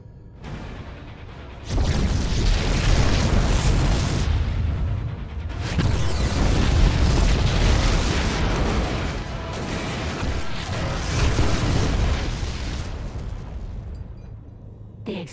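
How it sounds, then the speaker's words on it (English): Heavy, rumbling explosions in the video game StarCraft II: Heart of the Swarm roar continuously with crackling debris, loud and dense, fading briefly between blasts before the booming resumes. "The explosions have stopped."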